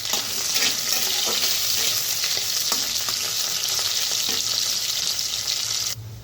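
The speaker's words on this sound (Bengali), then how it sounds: "শুটকিগুলো ভাজা ভাজা হয়ে গেলে নামিয়ে নেব।" Loitta dried fish frying in hot mustard oil, a steady dense sizzle with scattered crackles and pops that runs close and loud for about six seconds before dropping off sharply near the end, with no talking.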